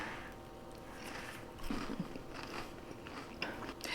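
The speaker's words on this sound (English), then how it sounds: "I have a few crackers here on my plate. I'm gonna go ahead and dip in." Crackers dipped in creamy tomato soup are bitten and chewed up close, with soft, faint crunches and moist squishes at irregular intervals.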